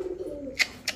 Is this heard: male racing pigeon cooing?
yes